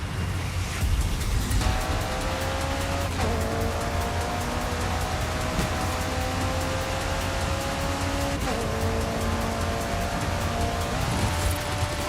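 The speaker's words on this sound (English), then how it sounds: "this V8 sounds very good. The McLaren V8s now." McLaren V8 engine revving in Forza Horizon 5, rising and falling through repeated gear shifts with a steady, loud drone and wind or tire noise beneath, no talk.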